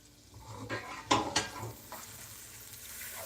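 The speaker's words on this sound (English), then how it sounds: "We just want to saute it until it gets nice and tender" Stuffing ingredients sautéing in a pan, a soft sizzle under a few clattering scrapes of a utensil stirring against the metal, close and fairly quiet.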